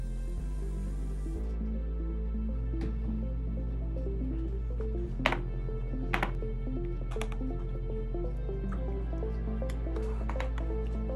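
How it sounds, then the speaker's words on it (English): Sourdough starter being stirred into warm water in a bowl: faint, sparse wet squishes and light spoon taps over a steady low background hum, with no talking. "Take 2 heaping spoons of the sourdough we just made and mix it into the water."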